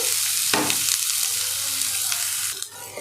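Chopped onions and garlic sizzle steadily in hot oil in a home kitchen while being stirred for veg gobi manchurian, with a louder scrape of the spoon midway and continuous close frying throughout.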